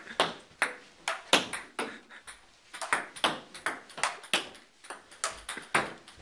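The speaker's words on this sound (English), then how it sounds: "Boy, ping pong sure is fun." A ping pong ball bounces in a quick, steady stream of sharp, bright clicks, close and fairly quiet, with no talking.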